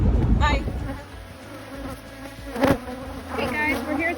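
Honeybees buzz around hives at a bee yard, individual bees droning close past the microphone in brief rising and falling passes over a quieter hum.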